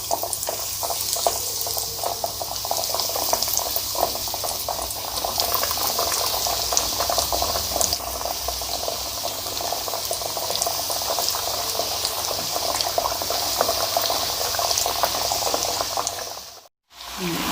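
Chicken nuggets frying in hot oil, a dense continuous bubbling sizzle that stays loud and close before cutting out sharply near the end.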